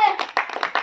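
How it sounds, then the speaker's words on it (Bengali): A small crowd at a spin-the-wheel prize game claps for a winner in a few quick, close bursts. A brief voice is heard at the very start. "হাততালি ওর জন্য সবাই।"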